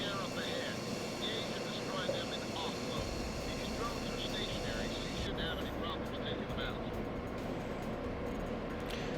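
Jet engine roar of an F-15 Active fighter in the flight game Tom Clancy's H.A.W.X., a steady broadband rush that holds throughout under continuous talk.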